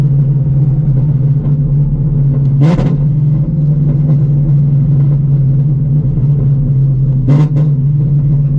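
Engine of a 900-horsepower Shelby GT350 drones loudly and steadily up close, with two brief sharp rev blips during downshifts breaking the constant low rumble.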